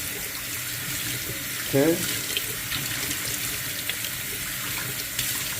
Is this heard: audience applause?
no